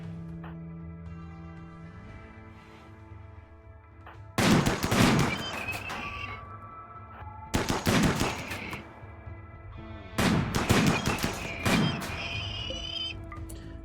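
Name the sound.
gunfire shooting down a Scyther in RimWorld video game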